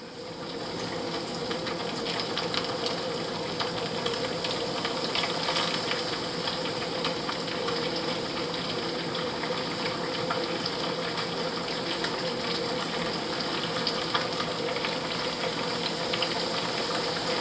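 Whole bluegill and shellcracker fish coated in cornmeal fry in hot oil, a steady, dense sizzle and bubbling that holds close and even throughout with no talking.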